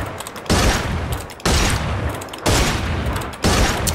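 Rapid bursts of gunfire from the Free Fire video game, four loud sustained volleys in quick succession, each starting abruptly and rattling on for about a second, heard alone without talk.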